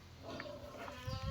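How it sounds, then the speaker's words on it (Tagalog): A pet pig squeals and cries nearby among farm animals, short whiny calls rising and breaking off over low background noise, with clucking fowl-like sounds mixed in. "umiyak ng alaga kong baboy"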